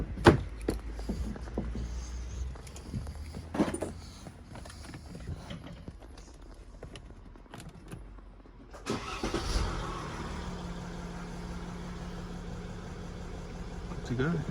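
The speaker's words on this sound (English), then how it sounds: "Good to go, engine starts." A Mercedes-Benz GLE cranks and fires up after a 12V battery replacement, then settles into a steady idle; earlier there are some handling knocks and clatter.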